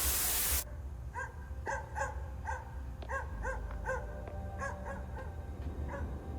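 A dog in a film scene gives a series of short, repeated whimpering yelps, moderately close, over a low background rumble following a brief loud burst at the start.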